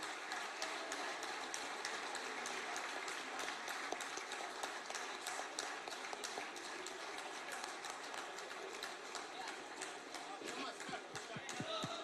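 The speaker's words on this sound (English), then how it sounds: "Please welcome him with your clapping." An audience at a nationalist thinkers' forum in Hyderabad claps to welcome a guest, a continuous, fairly distant wash of many hands that stays steady throughout.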